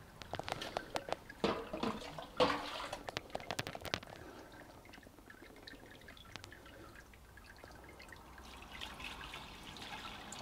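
Water pours quickly into the mash inside a Brewzilla malt pipe. Busy splashing and drips come first, then ease into a quieter, steady trickle, close and fairly faint, with no talk.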